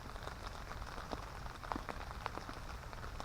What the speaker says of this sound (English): I wasn't expecting this much rain